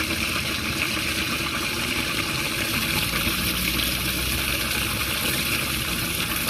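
Dirty water drains from a carpet cleaner's waste tank after a commercial job, making a steady, close rushing flow over a constant engine-like hum.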